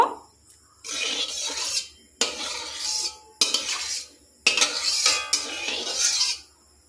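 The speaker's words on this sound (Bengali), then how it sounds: "এবার তেলটাকে আমি চারদিকে ছড়িয়ে নেব।" A utensil scrapes and swishes oil around a wok (kadai) before chowmein goes in, in several distinct bursts of close metallic scraping with short silent gaps between them.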